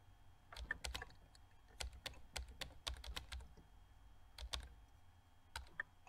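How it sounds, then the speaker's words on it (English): Computer keyboard keys mashed in quick irregular bursts, sharp close clicks and clacks clustered in flurries with brief pauses between, no voices. "I was just mashing the keys there"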